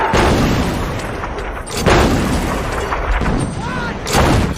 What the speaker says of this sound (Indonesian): Setelah artileri ditembakkan